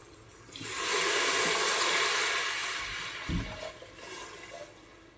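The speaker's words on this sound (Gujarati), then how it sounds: "આપણે એક તપેલી નાની પાણી ઉમેરી દઈશું" A small pot of water pours steadily into a pot for masala khichdi for a few seconds, a bright rushing splash that gradually thins out, with a soft clunk near the end.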